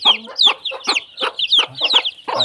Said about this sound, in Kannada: ಈವೆಲ್ಲ ಮರಿಗಳು ಇವತ್ತಿಗೆ ಒಂಬತ್ತು ದಿವಸ ಮರಿಗಳು